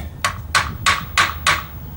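Five sharp hammer taps on a chocolate ripple cake in an even rhythm, close and ringing briefly, with quiet pauses between strikes.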